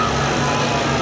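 An Oliver 2150 Top Shot pulling tractor fitted with a 478 Hercules engine roars steadily at a tractor pull in Langford, a loud, dense, unbroken engine drone filling the brief moment.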